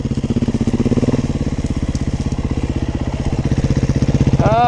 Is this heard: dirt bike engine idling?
yes